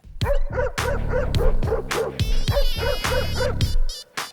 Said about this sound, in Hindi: इस घर में एक कुत्ता है।